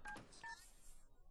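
Phone dialing in The Sims 3 video game: a quick run of short electronic keypad tones, clear and close, with no talk over them.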